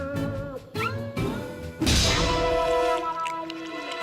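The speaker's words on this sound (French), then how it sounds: "Un chat." An animated cartoon cat in a French Lucky Luke episode gives a few meows among drawn-out tonal sounds and sudden thuds, fairly loud and up close.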